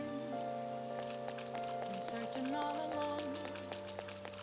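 Rain falling in Persona 5, a soft continuous patter of drops under steady background music tones, with no voices.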